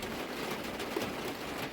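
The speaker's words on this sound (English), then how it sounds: "At least it's raining and it's not ice and snow" Rain falls steadily outside a parked camper van on a chilly day, a soft, even hiss of drops with no speech.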